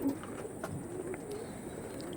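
Tournament-quality bloodline pigeon gives a soft, low coo, faint and brief against a quiet room background with no talk.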